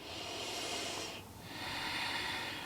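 Slow, deep breathing during a stretching exercise, heard as one long close exhale, a short pause, then another airy breath, with no talking.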